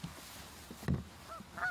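Canada geese honking as they fly in over a goose hunt, a few faint distant calls against quiet outdoor air with a brief thump, no talk.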